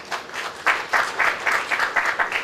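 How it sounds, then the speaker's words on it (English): An audience applauds professionals from various firms at a public relations society gathering, steady mid-distance clapping with rhythmic surges and no talking over it. "Let us acknowledge them with a clap."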